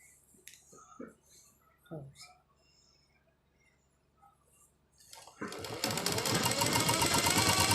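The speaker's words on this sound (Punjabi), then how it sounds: "ਇਹਨੂੰ ਹੁਣ ਆਪਾਂ ਸਲਾਈ ਕਰਨਾ ਇੱਥੋਂ ਸਲਾਈ ਕਰਨਾ ਸ਼ੁਰੂ ਕਰਦੇ ਹਾਂ" A sewing machine starts stitching cloth partway through, a loud rapid mechanical whir that runs continuously to the end, preceded by a few quiet clicks and handling sounds.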